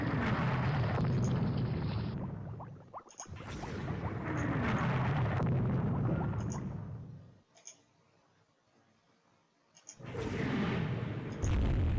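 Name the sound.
naval battle explosions in video game Rule the Waves 2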